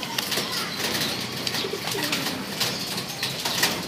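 Pigeons gather around a water dish, cooing and shuffling with soft wing flaps and a flurry of close, busy movement throughout.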